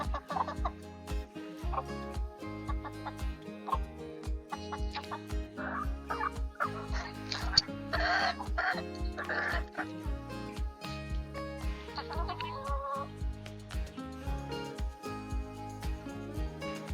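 Backyard homestead chickens, offered leftover blackberries, cluck and gobble-like squawk in bursts over a steady, fairly loud music track.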